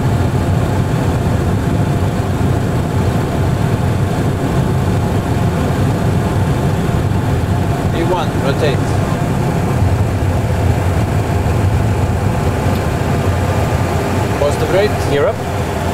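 Boeing 737 Classic jet engines at takeoff thrust in a flight simulator, a steady loud broadband roar and hum held evenly throughout, with faint higher chirps near the end.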